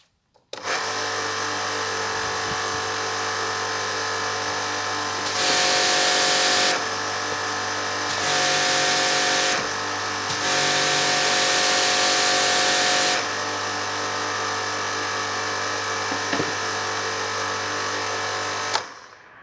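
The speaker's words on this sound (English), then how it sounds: "now I'll turn on the machine and we will see whether the problem persists." A Karcher pressure washer runs continuously with a steady loud mechanical drone that keeps going without stopping, its pitch and intensity shifting in a few stretches as the unloader fault prevents shut-off when the trigger is released.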